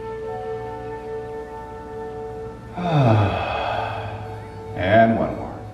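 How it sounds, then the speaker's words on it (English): Two deep overhead breaths in a chi gung exercise, each a long, audible rush of air, heard close over a steady tonal drone of background music. "Breathing in."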